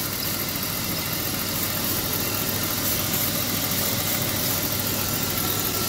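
A car engine idles with a slightly wavering, unsteady rhythm, a constant close mechanical hum and rattle with no voices over it.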